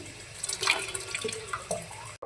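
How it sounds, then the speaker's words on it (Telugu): Water poured into a small container, a close, bubbling trickle with splashy gurgles that runs for about two seconds and then cuts off abruptly. "ఫస్ట్ దీంట్లో నీళ్ళు వేయాలి."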